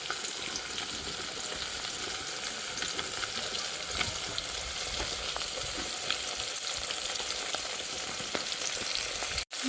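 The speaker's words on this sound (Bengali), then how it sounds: "ভালো করে মাছগুলো ভেজে নিই দেখুন লাল লাল হয়ে যাচ্ছে মাছগুলো" Fish frying in a pan for a home-cooked curry with taro and potato, giving a steady, close, loud sizzle that crackles throughout and then cuts off abruptly at the very end.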